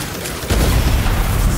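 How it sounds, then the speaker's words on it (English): A video game tank fires a volley of multiple rockets, a sudden heavy booming blast that bursts in mid-clip and rumbles on loudly, dense and close, with no talk. "That tank fires multiple rockets,"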